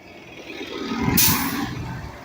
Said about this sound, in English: We got a fire truck and we got a bus.